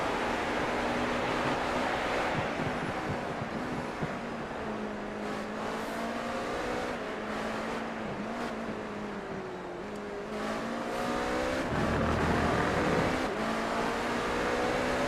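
A GTP prototype race car's engine screams around Sebring in a racing game, a sustained loud drone whose pitch climbs and falls through gear changes, with a rougher roar near the end.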